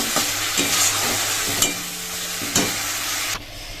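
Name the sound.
water added to frying spice masala for fish curry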